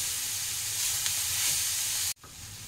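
Vegetables for Bengali vegetable chops stirred in a hot pan, a steady bright sizzle with faint scraping that cuts off abruptly near the end, then resumes more quietly.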